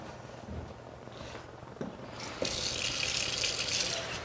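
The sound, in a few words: warm water being added for fry bread dough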